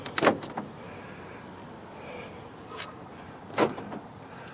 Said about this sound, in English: we'll unlock the doors.